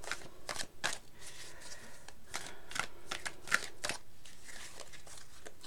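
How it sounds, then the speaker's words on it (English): Tarot cards being shuffled by hand: a run of soft, papery riffles and flicks, quiet and close, repeating in irregular bursts with no voice over them. "I'm just going to start shuffling these cards now for you"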